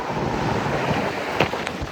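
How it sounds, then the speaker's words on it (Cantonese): Strong outdoor wind buffets the microphone in a steady broadband rush over a town street, with faint clicks and no talk. "咁好大風呢度。"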